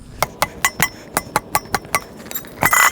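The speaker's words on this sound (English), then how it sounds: "then you get on top of it and start smacking it with a hammer" A hammer repeatedly smacks a Bead Buster tool to break the bead of a tire on its rim, with about a dozen sharp metallic strikes in a steady, quick rhythm, close and loud, ending in a denser clatter.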